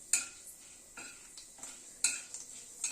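Cumin and fenugreek seeds tempering in hot oil, giving sharp, sparse crackles and pops in short bursts, several spaced clusters across a few seconds, fairly close and quiet, with no talk.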